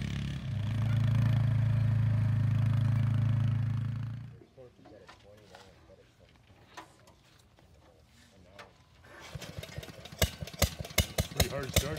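An engine with a badly adjusted carburetor starts hard. It runs loud and close for a few seconds, then cuts out to near quiet with scattered clicks, before a rapid, sharp cranking clatter.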